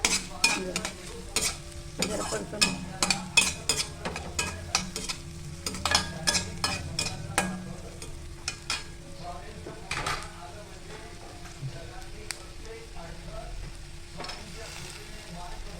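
Garlic, green chili and capsicum stir-fry in a pan for vegetable manchurian, with a close, steady sizzle and frequent sharp scrapes and clinks of a spatula against the pan, busiest early on and thinning toward the end.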